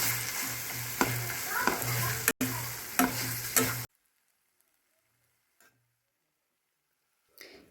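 Bitter gourd gravy with roasted sesame, coconut and peanut powder sizzles in a pan under stirring, with a few sharp scrapes. The sound is close and steady for about four seconds, then drops to near silence.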